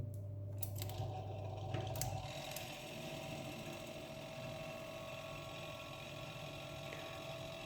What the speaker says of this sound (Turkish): Motorumuz çalışmaya başladı.